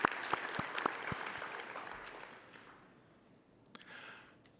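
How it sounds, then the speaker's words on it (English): An audience at a finance association business meeting and awards presentation claps for the editorial team, a burst of scattered clapping that thins out and fades to near silence, with a faint rustle near the end. "I'll give a round of applause for the"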